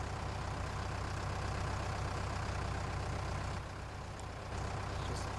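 A Fiat tractor in Farming Simulator 19 idles with a steady, low diesel rumble, close and unbroken for several seconds. It dips slightly once near the end, with no voices.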